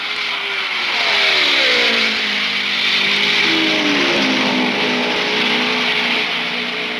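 IndyCar race cars at the 1975 Indy 500, several engines screaming past at high revs, overlapping whines sweeping up and down as cars pass close by, loud and sustained without speech.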